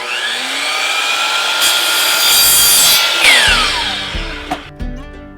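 A vinyl plank floor transition strip being cut with a hand saw, a loud close rasping stroke that builds and then breaks into a few sharp clacks and taps at the end.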